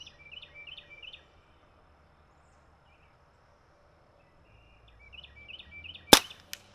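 A Brocock Atomic XR air pistol fires once near the end, a single sharp, brief crack, after quiet outdoor stretches with scattered birdsong chirps during target shooting at around 50 yards.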